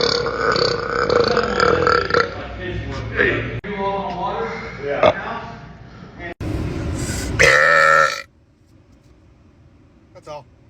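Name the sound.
long burp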